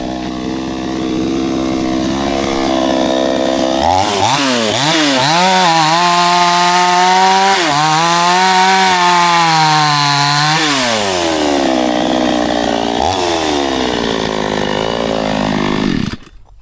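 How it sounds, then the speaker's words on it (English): A chainsaw at a house construction site in the Philippines, loud and close, idling before revving hard into wood with rising and falling engine pitch through repeated cuts, then cutting off abruptly near the end. "when did you fix the chainsaw?"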